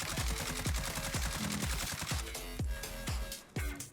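AMAX rifle fire in the Warzone video game: rapid sustained automatic bursts of sharp, evenly spaced shots, loud and close, with a brief pause near the end and no talk.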